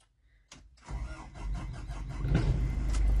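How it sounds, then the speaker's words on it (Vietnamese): A diesel seven-seat car's engine cranks and catches after a brief silence, then settles into a steady, rising idle rumble that grows louder toward the end, with no speech over it. "Máy đang nổ này."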